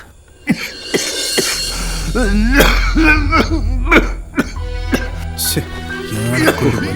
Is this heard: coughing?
yes